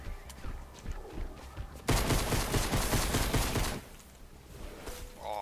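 Rapid automatic gunfire rattles out in a loud, dense burst lasting about two seconds in a haunted-manor Fortnite Halloween escape map, framed by quieter in-game sounds and ambient noise before and after.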